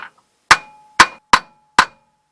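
A hammer strikes a car CV joint four times, giving sharp metallic clanks with a short ringing tail, close and loud, spaced roughly half a second apart.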